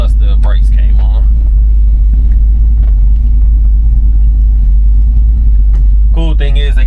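An LS V8 swapped into a 1968 Chevrolet C10 truck idles with a deep, loud, steady rumble heard from inside the cab, while someone talks briefly at the start and end.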